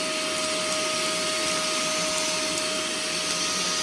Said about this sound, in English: I just wanna show you guys just how easily it pulls everything into the vac